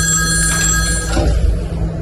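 A telephone bell rings loudly and steadily in an office-like room, with a continuous electronic trill filling the whole stretch and no speech over it.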